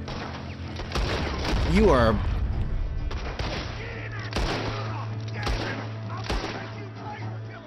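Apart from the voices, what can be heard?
gunfire at a dog in the video game Red Dead Redemption 2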